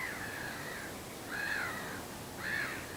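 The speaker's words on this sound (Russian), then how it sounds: "Птички поют." Birds call at a riverside on a cool morning: three harsh, crow-like caws come about a second apart over a steady hiss of background noise, with no talking.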